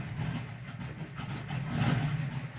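A 1968 Camaro SS V8 idling steadily, a deep low rumble with a slight swell in the second half, close and continuous with no talk.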